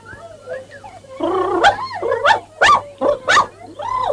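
A dog barks and yelps in an old children's puppet cartoon, Torchy the Battery Boy, several close bursts of yips and whimpers in quick succession.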